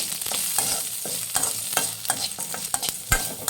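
Cinnamon, clove, ginger and pepper frying in a pan for a mutton paya leg soup, a close, steady sizzle broken by rapid rhythmic scrapes and taps of a stirring spoon.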